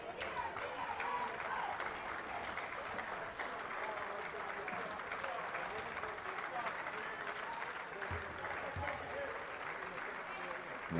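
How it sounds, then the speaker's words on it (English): Basketball fans at a 2021 girls regional game between McCutcheon and Carroll give their team steady, sustained applause, a dense wash of clapping that fills the whole stretch with crowd murmur beneath it. "the McCutcheon fans give their kids a round of applause"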